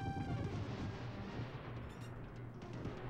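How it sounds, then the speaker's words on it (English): Explosion in a video game, a dense rumbling blast that fills the whole moment and slowly thins out, loud and close, with no voice over it. "Wow. That explosion."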